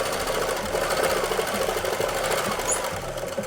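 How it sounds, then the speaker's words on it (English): A sewing machine stitches the bottom seam of a washable fabric face mask, a fast steady whirring hum with rapid needle clatter, close and continuous, no voices. "So we can sew the bottom part."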